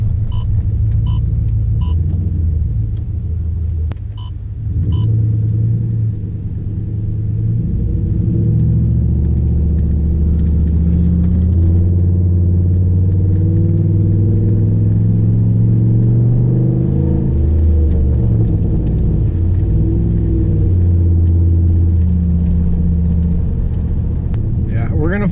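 A 2007 Pontiac Grand Prix GXP with the LS4 V8 pulling through slushy, snowy roads from inside the cabin, its engine a deep, continuous droning rumble with road noise, while a person talks over it.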